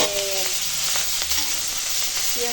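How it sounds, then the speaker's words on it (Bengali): Chopped onion and green chillies fry in hot oil with a steady close crackling sizzle, punctuated by a few light stirring clicks and scrapes, without speech. "পেঁয়াজ কাঁচা লঙ্কাটা এখন তেলের উপর দিয়ে ভেজে নেবো"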